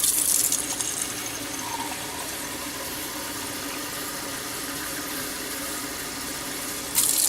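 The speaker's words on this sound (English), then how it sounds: "Just turn on water" Water runs steadily from a tap for coffee making beside a rocket stove, a continuous close hiss that holds evenly for several seconds with a louder burst near the end.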